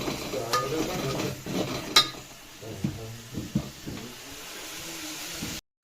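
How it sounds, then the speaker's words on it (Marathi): Garlic fries in a pan for a crab curry, giving a soft, steady sizzle with scraping stirs and a few sharp clinks of a utensil against the pan, before ending abruptly. "लसूण टाकले आता आपण मस्त लाल करून घेतो"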